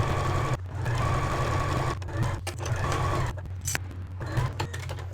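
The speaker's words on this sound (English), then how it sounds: "take that over to the sewing machine, backstitch, so all the way around, backstitch using a 1/4 inch seam allowance" A sewing machine runs steadily, backstitching a 1/4 inch seam around a fabric wristlet, with a continuous motor drone and brief pauses and restarts at each reversal.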